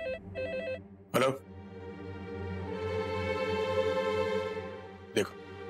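A landline telephone rings with a warbling electronic tone, one short double burst and then a longer sustained ring, close and clear, with a brief click or thump around it.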